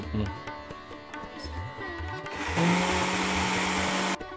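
A mixer grinder whirs loudly and steadily for about two seconds, coarsely grinding a masala with a little water for veg palav, after quieter kitchen clatter.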